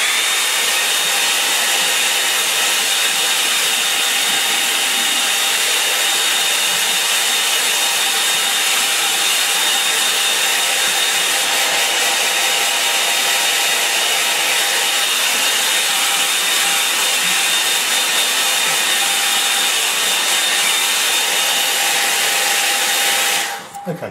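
A hair dryer blows steadily and loudly for the whole stretch, drying a watercolour painting on a board; the constant whirring rush stays unbroken until it cuts off at the very end.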